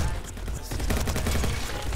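Rapid bursts of gunfire from the Roblox game Bad Business rattle loudly in a dense automatic fusillade, continuous and close for the full moment.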